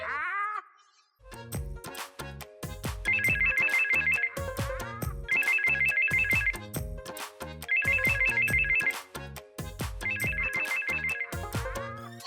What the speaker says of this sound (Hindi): किसी को फोन की आवाज ही नहीं आ रही